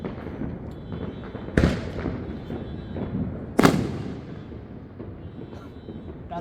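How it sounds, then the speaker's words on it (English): Two sharp loud bangs crack out about two seconds apart during an outdoor night of fireworks with car horns honking, each followed by a short rolling echo over a low murmur of distant background noise. "That's a shot."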